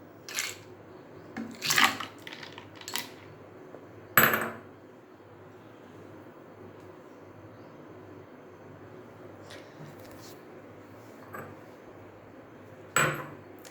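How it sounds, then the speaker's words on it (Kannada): Ice cubes are dropped into a glass of watermelon juice as a few scattered clinks and knocks, a cluster early on, one louder hit, then quiet before a final clink. "ಈಗ ಇದಕ್ಕೆ ಐಸ್ ಕ್ಯೂಬ್ಸ್ ಹಾಕೊಳ್ಳೋಣ."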